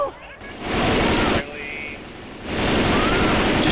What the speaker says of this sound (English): Just shooting in this general direction